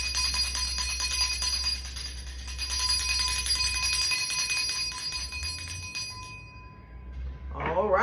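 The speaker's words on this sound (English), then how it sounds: "by the ringing of this bell" A bell ringing in a spiritual cleansing ritual, sustained bright metallic tones lingering for several seconds before fading, followed by a brief voice at the end.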